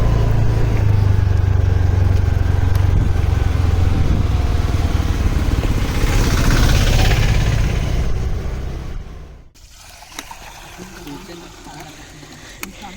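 A vehicle engine driving at night toward a farm drones loudly and steadily with a low rumble while someone talks over it, before the sound drops away and quiets near the end.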